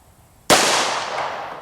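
A single pistol shot at target practice cracks out close and loud from quiet, its broadband blast decaying into a long ringing tail.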